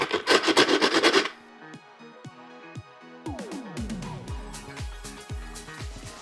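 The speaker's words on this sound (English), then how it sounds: "to make sure the edges are smooth, I'm just gonna sand them off" Cut edges of a plastic protein container are sanded with a quick burst of rough rubbing strokes. Quieter scraping follows, mixed with hollow plastic knocks and clatter, all close by.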